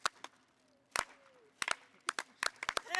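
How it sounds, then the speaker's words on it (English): Several sharp, spaced hand claps in a slow, deliberate rhythm after a food-themed gathering, close and fairly quiet, with a brief voice at the start. "Slow clap."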